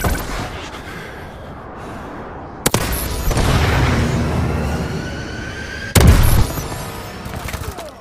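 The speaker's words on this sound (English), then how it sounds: "Friendly missile strikes inbound." Missile strike explosions in Call of Duty Advanced Warfare, two sharp loud impacts a few seconds apart, each followed by a long rumbling roar over steady background battle noise.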